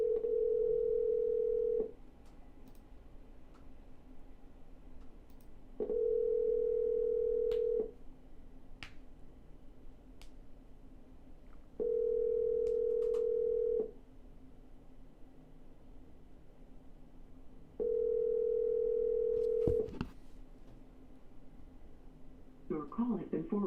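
A telephone line sounds during an outgoing cold call, with four long, evenly spaced tones about six seconds apart over faint line hiss, and some clatter at the end.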